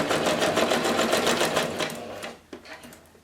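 A sewing machine runs steadily doing straight stitching on fabric scraps with a rapid, even rhythm, then slows and stops, leaving a few faint clicks and knocks.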